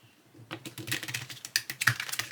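A deck of tarot cards is shuffled up close, a quick run of crisp, sharp clicks and riffling taps that builds from quiet to a busy, uneven patter.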